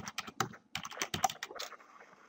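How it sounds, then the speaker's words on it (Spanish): Close computer keyboard typing as a RUC number, username and password are entered on a tax website login, with quick irregular key taps in short bursts and brief pauses. No one talks. "vamos a digitar nuestro RUC, usuario y contraseña"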